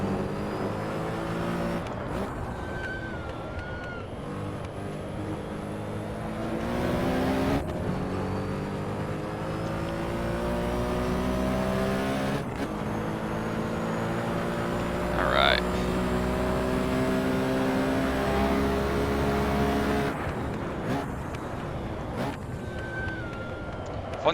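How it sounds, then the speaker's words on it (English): Porsche 917K race car in Assetto Corsa, its engine revving hard and changing pitch through downshifts, loud and continuous throughout with rising and falling harmonics. "Fun car downshift, sounds good."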